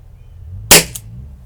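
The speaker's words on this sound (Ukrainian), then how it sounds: "Восьмий постріл." A single sharp shot from a Weihrauch HW4 6-inch air gun cracks out close by, with a faint echo just after, against near silence.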